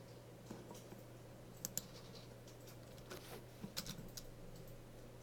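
Typing on a computer keyboard, a few soft scattered key clicks in short clusters over a steady low electrical hum, faint and fairly close.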